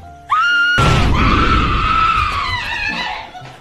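A young woman lets out a sudden, loud scream of surprise that holds for a few seconds and then trails away, with a short tone heard just before it.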